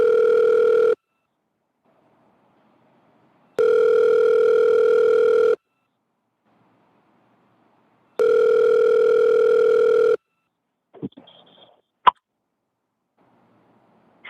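Outgoing call ringback: three long, loud, steady tone bursts separated by silent gaps, then a few faint clicks and bumps as the line connects.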